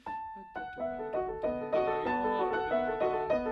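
Short, detached piano chords played staccato without pedal in a bouncy rhythm, each note clipped off quickly and dry, no sustain blurring them together.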